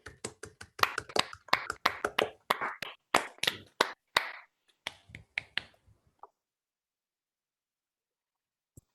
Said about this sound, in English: I suggest we just clap and thank Harney for the talk